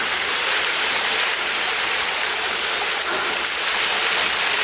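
Steady rushing of a forest waterfall and flowing stream after rain, a dense continuous broadband roar close by with no voices over it.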